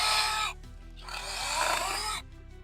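Cordless PRO-CRAFT PKA46 saw cutting through wood: a loud, steady buzzing whine that drops briefly after half a second, then surges back under load before cutting off near the end.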